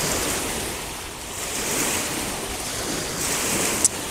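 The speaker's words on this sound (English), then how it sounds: "the wind's getting stronger" Strong wind blows outdoors at Te Anau, New Zealand, in a steady, surging rush that swells and eases over a few seconds, with no voices.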